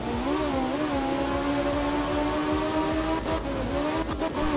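Rally car racing on a wet Finnish stage in the video game Art of Rally: a steady, loud engine drone with shifting pitch and gravelly tire noise throughout, with a few brief scraping bursts near the end and no talking.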